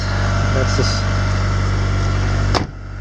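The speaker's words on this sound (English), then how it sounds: "That's what the engine sounds like." A Mitsubishi Galant VR-4's engine idles with a steady, low continuous hum, with a brief sharp click or thump near the end.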